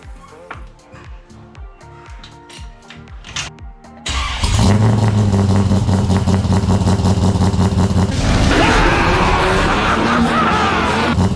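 A Mitsubishi Evo's starter cranks in a choppy rhythm for a few seconds before the engine catches and settles into a loud, close, steady idle, then rises in a brief rev.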